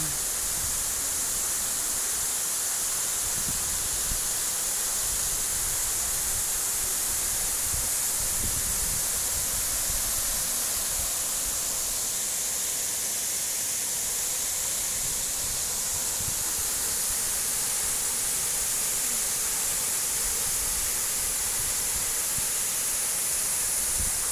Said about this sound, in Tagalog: Ang tubig lamig at saka malakas ang hangin dito guys.